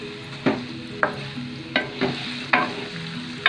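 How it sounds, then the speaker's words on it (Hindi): Chicken pieces frying in a karahi with whole red chillies, stirred by a spoon that scrapes the pan in sharp strokes roughly every half second over a steady close sizzle, with no voices. "अब हम गोश्त को अच्छी तरह भूनेंगे"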